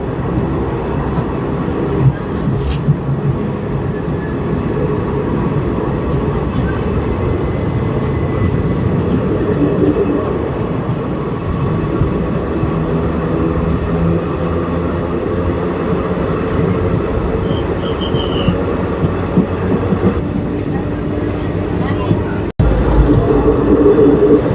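The 15928 NTSK-Rangiya Express rumbles steadily along the track through flood-hit Assam, a continuous loud wheel-and-rail roar with coach rattle that holds from start to finish.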